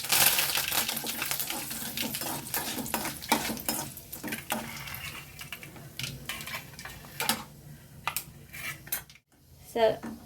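Dense crackling and sputtering of curry leaves frying in hot oil, loud at first then settling, mixed with metal utensil clinks against a pan.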